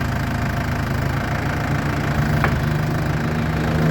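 A 2005 Hyster H80XM 8,000 lb pneumatic-tire diesel forklift idles steadily nearby, a constant low rumbling knock with no speech over it.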